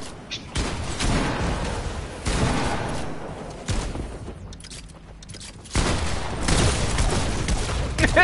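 Sustained bursts of minigun fire in Fortnite, loud and dense, running in long stretches with short lulls between them.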